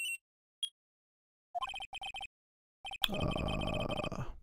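A video-game telephone rings in short repeated electronic bursts, a few chirps then a pair of ring pulses, followed by a louder noisy clatter as the ringing continues; quiet overall.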